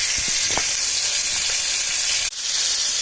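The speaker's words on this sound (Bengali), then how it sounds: "এক পাশ হয়ে যাওয়ার পর আমি অপর পাশ উল্টিয়ে দিচ্ছি। একদম লাল ফ্রাই করে ফেলবো না, হালকা ভাজবো শুধু।" Loud, close hiss of chicken pieces frying lightly in oil, with a few clanks of turning pieces before a brief dip and the sizzle resuming.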